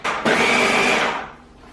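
A food processor pulses a cannoli bite mixture in one loud, steady whirring burst of about a second, then winds down and trails off.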